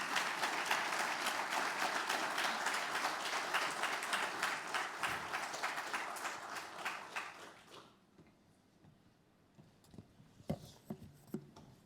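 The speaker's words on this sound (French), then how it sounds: "en demandant à ce qu'on puisse vous applaudir" Audience applause at the Université Autoconsommation Enerplan 2019 conference: dense, sustained clapping from a crowd for about eight seconds that then stops abruptly, followed by quieter room noise and a few scattered knocks.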